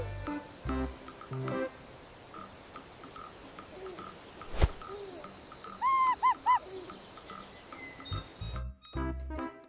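An owl hoots several times in a short low series of soft calls, with faint crickets and other birds in the background and a few brief louder thumps around them.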